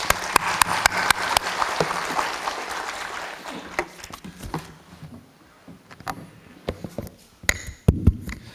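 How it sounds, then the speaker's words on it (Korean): A crowd at a residents' briefing on an apartment reconstruction applauds to welcome a tax presenter. Steady clapping fills the first few seconds, then it thins into scattered, sharp individual claps and small knocks. "이유진 위원님을 큰 박수로 맞이하여 주시기 바랍니다"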